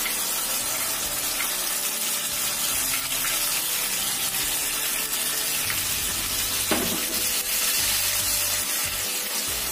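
Steady, hissing sizzle of ground balado spice paste frying in a pan for eggplant, constant and close with no talking.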